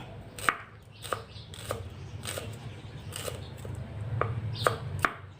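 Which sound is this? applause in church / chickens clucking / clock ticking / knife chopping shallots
knife chopping shallots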